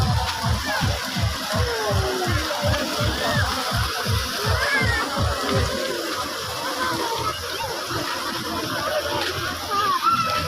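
Water falls from a hand-shaped fountain at Golden Star Park in Narsingdi, splashing and sloshing in a continuous wash with a soft, pulsing low rumble underneath.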